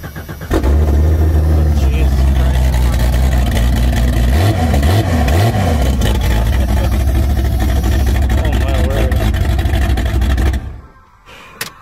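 A 1989 Jeep Cherokee engine cranks, catches and runs loud and close, with a rough, lumpy idle and a few quick revs partway through before the engine is shut off near the end.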